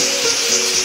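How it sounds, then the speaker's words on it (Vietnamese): An Arimitsu 1105 pressure washer rated at 120 litres per minute sprays hard, as used for washing undercarriages and construction vehicles. It makes a close, loud, steady broadband hiss with no talking. "Em này nó sẽ chuyên phù hợp cho những cái công việc rửa gầm này, xịt đất này, xịt xe công trình này."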